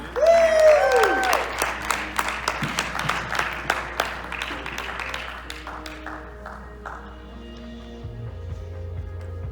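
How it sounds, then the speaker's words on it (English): Crowd applause at a Mr Irresistible pageant show, a strong burst of clapping with a few whoops that thins out and fades over several seconds, a brief tonal squeal near the start. "Can we give them one more round of applause?"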